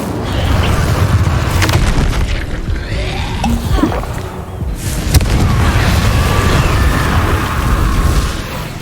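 In Hogwarts Legacy, an Incendio fire spell erupts in loud, rumbling booming blasts with crackling bursts that swell and fade amid dense action noise.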